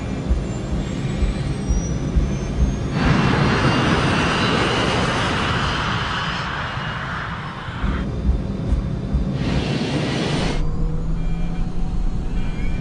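Airliner jet engines roar through a takeoff roll on a 2,400-meter runway, a loud, continuous broadband rumble that swells and shifts in tone as thrust builds, close and steady with no talk.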